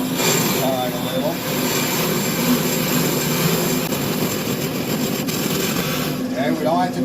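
A brake lathe resurfacing a warped Chevrolet Silverado brake rotor, with a loud, steady roaring whine and a constant high hiss, a faint scraping cut running underneath throughout.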